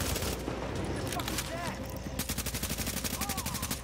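Rapid gunfire from a shooter video game during a sniper fight, with dense overlapping shots early and then a steady fast burst of automatic fire building through the second half, loud and close, with some talk mixed in.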